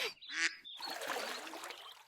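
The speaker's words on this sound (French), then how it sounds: "Un canard." A duck quacks in a few short, raspy bursts, fairly close and clear, followed by a stretch of noisy background.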